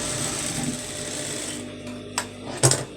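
A sewing machine runs a seam on a strap, its steady whirring stitch carrying for a second and a half before stopping, followed by a couple of short clicks and rattles.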